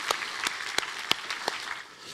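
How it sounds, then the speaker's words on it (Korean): Congregation applause in a church worship service, a brief burst of scattered claps rising and thinning out, fairly close and alone with no talking over it. "우리 하나님께 감사와 영광의 박수를 드리겠습니다"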